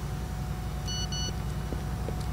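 SMS notification beep from Grand Theft Auto IV, a short double chirp of two quick tones, fairly faint over a constant low rumble of game ambience.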